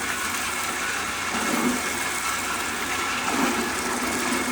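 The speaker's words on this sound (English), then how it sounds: "And then we use about 5 to 6 gallons to rinse the lines through." Water gushes and rushes steadily through milking machine lines during a rinse, a soft continuous flow with faint swells.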